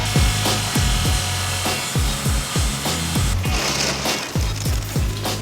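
Factory machinery brushing, chamfering and cutting paint roller sleeves with rotary blades, a loud close rhythmic series of rasping strokes roughly twice a second over a steady mechanical hum, no talking.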